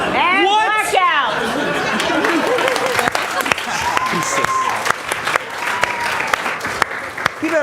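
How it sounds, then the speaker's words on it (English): Audience applause and crowd chatter fill a theater showcase of short films, continuous and dense throughout, with a voice briefly speaking over the clapping. "Keep that applause going for your 3"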